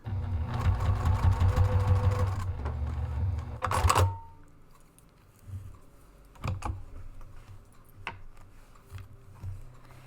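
A sewing machine stitching down pleats on a zip-top diaper bag: rapid, steady needle chatter for about four seconds, then it stops, leaving faint handling clicks and fabric rustling.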